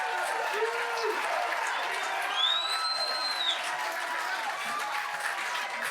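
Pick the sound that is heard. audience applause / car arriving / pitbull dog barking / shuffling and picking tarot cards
audience applause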